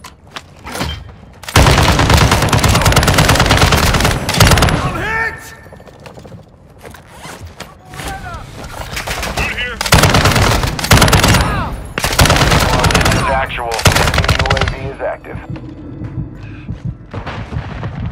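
Gunfire in Call of Duty Warzone DMZ, with rapid automatic bursts and sustained volleys repeating loudly over about eighteen seconds. Voices call out between and under the shooting.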